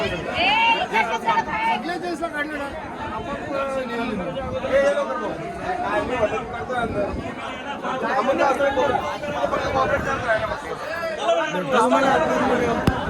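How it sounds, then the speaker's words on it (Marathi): A dense crowd packed together at a busy Mahashivratri festival gathering, with steady loud chatter and overlapping voices throughout. Nearby people call out and talk over the general hubbub. "अशी गर्दी झाली डायरेक्ट."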